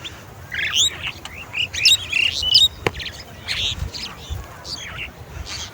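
Birds chatter outdoors near a heron, with bright chirps and twittering calls rising in short bursts over low background noise.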